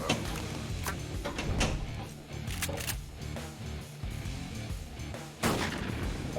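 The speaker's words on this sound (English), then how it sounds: "shotgun fail, which is not something you ever want to hear" A Pinball FX shotgun-fail sound effect from the Ghost Rider pinball table, a dense burst of booming blasts and crashing noise over loud game music, with a sharp fresh hit near the end.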